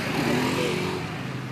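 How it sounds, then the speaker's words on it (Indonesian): A motorcycle rides past, a steady buzzing engine drone held at the same loudness throughout with no voices over it. "motor Kipi lewat"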